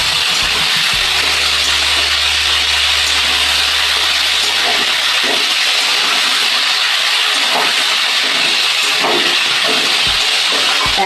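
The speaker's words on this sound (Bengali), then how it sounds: "এবার বেগুন দিয়ে ভালো করে আমি ভাজা ভাজা করে নেব" Eggplant frying in a pan for a vegetarian bottle gourd greens dish, a steady broad hiss and sizzle running throughout with occasional faint clatter, a low hum in the first seconds, no talking.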